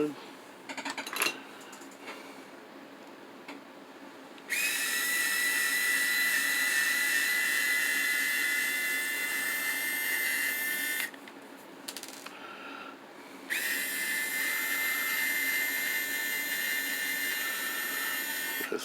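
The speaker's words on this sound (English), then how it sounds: "It's taking out the 4 titanium screws that hold the bottom chassis plate in." Four titanium screws come out of the bottom chassis plate of an Axial SCX10 rock crawler with a steel frame. A powered driver gives two long, steady, high whining runs, with talk and light metallic clinks in the pauses.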